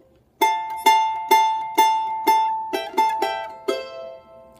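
Charango playing a short phrase of plucked single notes, including open first and fourth strings, about nine bright, evenly spaced notes each decaying quickly, close and alone.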